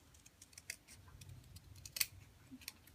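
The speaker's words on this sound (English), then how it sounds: "I'm going to cut a tiny bit more off" Scissors snip through cardboard in short, crisp cuts, a few quiet snips spaced apart with one sharper cut standing out near the end, close by and alone.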